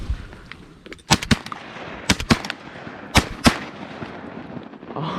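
Shotgun blasts fired at ducks during a youth duck hunt, about six loud sharp reports in uneven pairs and singles, close by, over quiet outdoor background.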